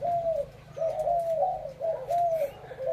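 Pigeons in a large cage give repeated low, rolling coos in steady phrases, close and clear, with a faint low hum underneath and no talking.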